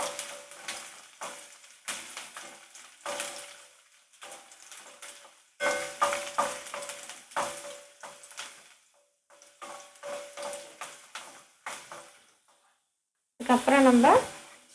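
Onions roasting in a pan over a low gas flame: a soft sizzle broken by repeated bursts of spatula stirring and scraping, close and moderately loud, with a louder clatter near the end.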